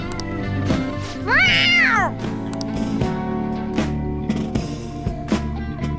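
A cat meows in the video game Persona 5, one clear rising-and-falling meow in the middle over a backdrop of game music with tonal chimes and soft percussive notes.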